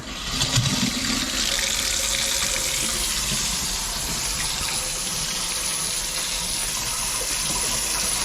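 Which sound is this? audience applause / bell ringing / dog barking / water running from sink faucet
water running from sink faucet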